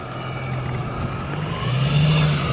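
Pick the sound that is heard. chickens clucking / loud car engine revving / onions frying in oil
loud car engine revving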